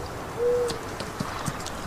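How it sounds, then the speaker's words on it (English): An owl hoots in Farming Simulator 19, giving one clear, low, hollow call at moderate loudness. It sits over soft ambient background noise with faint clicks and no talk. "I don't know if it's owls or something, but I hear it a lot."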